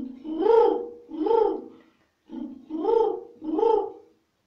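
A child imitating a pigeon's cooing with the voice, four rounded, throaty coos in two pairs separated by a short pause, close and clear.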